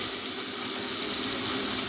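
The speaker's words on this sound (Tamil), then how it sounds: "நான் இப்போ அதுக்காக கொஞ்சமாக புளி ஊற்றுறேங்க." Tamarind water poured into a simmering dried-fish (karuvadu) gravy, a continuous close splashing stream of liquid with no break.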